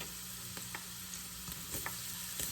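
Shrimp hits a pan of hot oil with garlic and onion for yakisoba, giving a steady close sizzle with a few scraping stir strokes and no talking.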